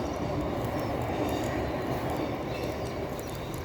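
A train on the Carlisle to Newcastle main line rumbles past at steady, fairly loud volume, a continuous broadband roar and clatter lasting throughout with no talking.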